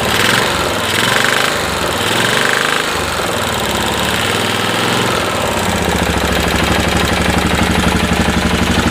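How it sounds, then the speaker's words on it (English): A Kawasaki Lakota ATV engine runs with no air filter, its carburetor intake loud and raspy. The engine has jumped time, has a bent valve and smokes, and its rough, rapid firing chugs steadily up close. "I don't have an air filter on it, so there is a little bit more noise coming out of the carburetor"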